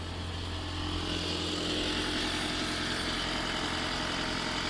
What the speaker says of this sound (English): They're a nice sounding engine